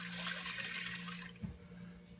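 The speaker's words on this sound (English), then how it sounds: "We're going to add the 1 quart of water" One quart of water pours into a pan set over medium-high heat, a soft rushing splash that fades after about a second, leaving quiet kitchen background.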